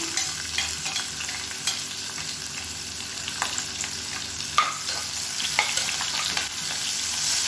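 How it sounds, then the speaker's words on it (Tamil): Small onions and garlic, finely chopped, fry in a pan for fish kulambu, giving a steady bright sizzle with occasional stirring scrapes and crackles throughout, close and continuous with no talk. "இந்த வெங்காயம் நல்லா வதங்கணும்."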